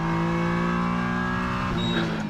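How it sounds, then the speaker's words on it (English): A race car at Le Castellet in the Michelin Le Mans Cup drops to third gear and goes to full throttle, its engine note climbing loud and close in a steady rising howl before a quick shift near the end. "down to third gear and full on the throttle again"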